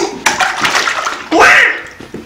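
A small child splashes in bathwater, with a few sloshing bursts and one louder splash near the middle, close and lively.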